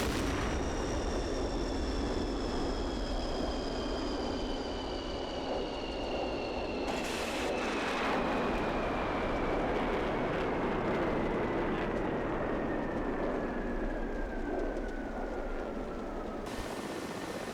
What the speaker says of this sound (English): another aerial battle is taking place not too far off in the distance